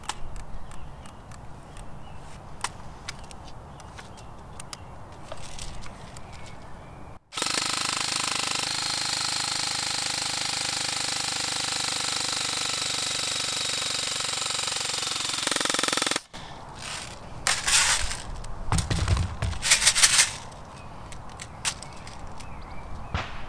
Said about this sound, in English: AK104, again this is a high speed gun. Just going to do a rough mag dump